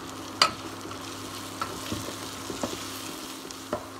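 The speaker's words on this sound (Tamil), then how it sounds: "போடு ஆனியன்ஸ், நல்லா கோல்டன் பிரவுன் ஆகிற வரைக்கும் நல்லா ஃப்ரை பண்ணிக்கோங்க." Onions frying in a pan for a vegetable lasagna, a steady sizzle broken by a few distinct clicks and scrapes of a spoon against the pan.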